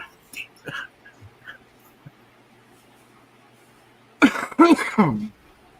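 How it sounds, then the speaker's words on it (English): A soft, muffled cough or two comes early, then after a quiet stretch a loud, harsh burst of coughing erupts close up. "I still got a really bad cough."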